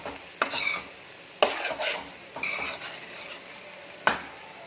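Egg rice is tossed with masala in a pan, giving several brisk scraping strokes of a spatula against metal over a faint sizzle, with one sharp clink near the end.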